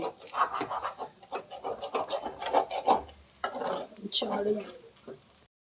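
Chicken fry is stirred in an old kadai pan with steady rasping, scraping strokes of a spoon against the metal. A voice talks at times over the stirring.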